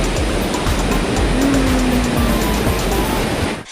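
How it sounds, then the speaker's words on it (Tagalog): Strong, fast-flowing water of the Lipit River rushes in a loud, dense, continuous roar close at hand, with no voices over it, before cutting off abruptly at the end. "Kaya lang sobrang lakas ng agos ng tubig."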